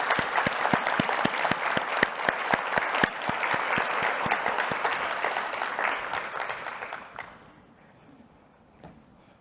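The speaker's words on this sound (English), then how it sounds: "Let's all give them a wonderful round of applause." An audience at a conference mainstage award presentation breaks into loud sustained applause with sharp individual claps near the front, fading out after about seven seconds into quiet room noise.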